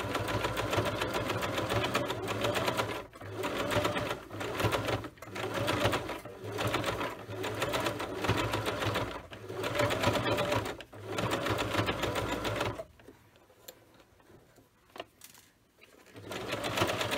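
A sewing machine runs in steady rapid stitching bursts with short pauses while sewing a fabric basket, then stops for a quiet stretch before starting up again.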